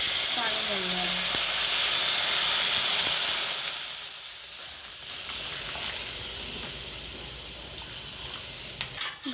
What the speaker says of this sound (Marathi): आता आपण थोडंसं पाणी घालणार आहे.